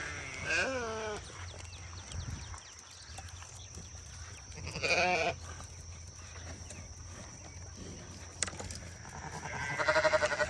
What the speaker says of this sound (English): These are our neighbor's sheep.